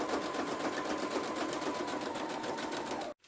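Sewing machine running steadily as it stitches a pocket onto a junk journal page, a continuous close whirring with even needle beats for about three seconds before stopping abruptly.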